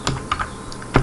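A few quick, close keystrokes on a computer keyboard while typing C code, irregular clicks with short gaps between them and no talking.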